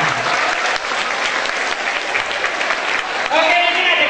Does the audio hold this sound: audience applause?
yes